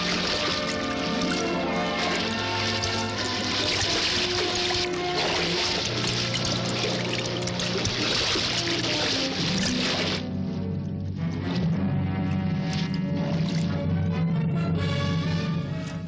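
A large salmon fights on the line in wilderness water, thrashing and churning the surface in a continuous loud rush of splashing, with music running underneath.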